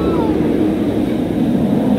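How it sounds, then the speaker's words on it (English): An amusement park water rapids ride at Busch Gardens Tampa Bay rushes past close by, a loud, continuous roar of churning water and machinery with no break. "My goodness, that ride's so loud."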